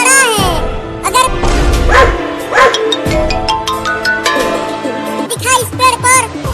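Dogs bark and yip in a cartoon-like scene, several sharp barks over busy music and voices, two dogs in an animated Hindi comedy.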